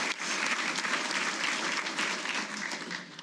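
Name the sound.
audience applause at Hall of Fame ceremony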